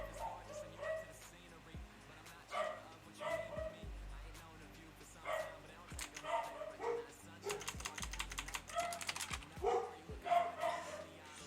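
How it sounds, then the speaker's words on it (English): Several dogs bark in short bursts and yips at a distance from the microphone, mixed with quick computer keyboard typing and a voice talking in between. "I don't know what they're barking at."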